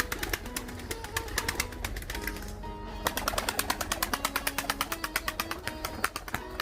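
Pigeons coo repeatedly close by in a loft while a rapid, regular clattering taps steadily underneath.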